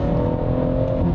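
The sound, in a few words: BMW M140i engine accelerating at full throttle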